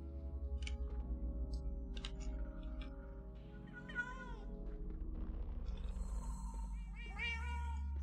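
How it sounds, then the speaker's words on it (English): A radioactive cat in Minecraft meows several times in short, rising calls, mostly in the second half, over a steady low game drone and background music. "The radioactive cat."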